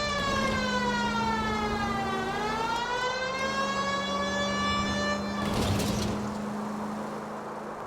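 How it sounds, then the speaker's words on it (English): A police car siren in the video game L.A. Noire wails with a steady rising and falling pitch, loud and close, briefly broken by a burst of noise near the end, with no talking. "I don't think we need the siren for this."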